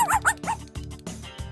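A cartoon dog gives a quick series of short, close yips and barks, five bursts in rapid rhythm with no talk over them.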